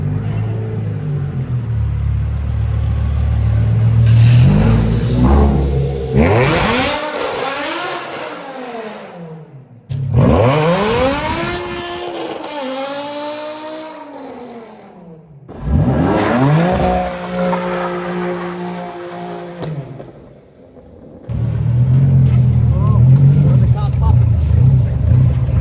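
BMW M5 E60 V10 being driven, the engine revving hard through several rising gear pulls with sharp drops between shifts, loud and close from inside the car.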